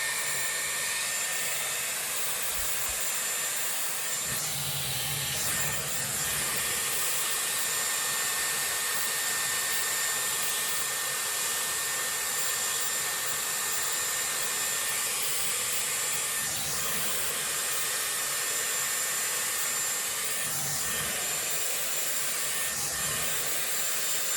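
A Dyson Airwrap with a round brush attachment blows a constant, loud, high-pitched whoosh of air while drying hair, running steadily with slight shifts in tone as the tool moves, close by and without talk.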